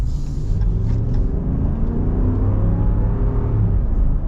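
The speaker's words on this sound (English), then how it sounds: "I do hear a little bit more tire noise than stock." Steady low road rumble and tire hum inside a lifted 2022 Ram 1500 Limited with air suspension on 35-inch tires and 22-inch wheels, continuous and fairly loud with no talking.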